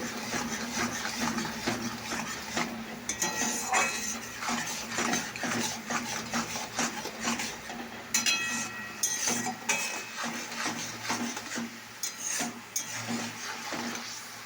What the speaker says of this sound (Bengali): দেখো আপনার মশলাটা কষা হচ্ছে